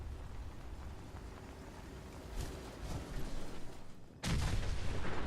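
Cars blowing up in the wasteland of Fallout 4: a low, rumbling bed of distant blasts, then an abrupt heavy explosion that leaves a loud, roaring wash.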